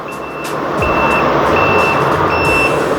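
The hazard-light indicator on an Ofero Stareer 3 Lithium electric bicycle beeps repeatedly, sending out evenly spaced high-pitched tones over a loud, steady background hum.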